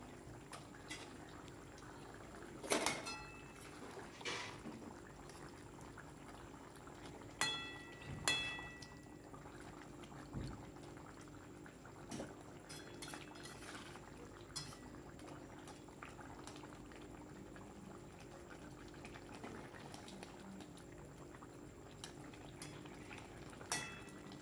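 Bengali fish curry with potatoes simmering in a pot, a soft continuous bubbling with scattered clinks and knocks of utensils against the pot, faint and without speech.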